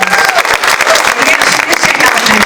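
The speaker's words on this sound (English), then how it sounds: "Give a round of applause." Loud, dense audience applause at a California state resolution presentation honoring doctors, a continuous wash of many hands clapping steadily throughout with a few voices mixed in.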